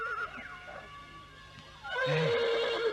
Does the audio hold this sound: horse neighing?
yes